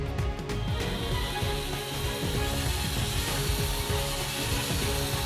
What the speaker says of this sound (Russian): А замешивать все это я буду с помощью шуруповерта и венчика для теста.